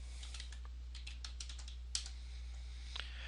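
Quiet, rapid keystrokes tap on a computer keyboard in irregular bursts over a steady low electrical hum.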